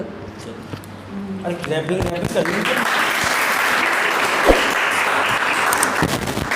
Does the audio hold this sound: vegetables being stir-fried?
no